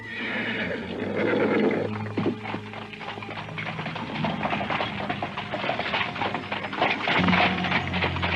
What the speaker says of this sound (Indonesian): Kereta kuda itu bergerak cepat di kegelapan malam.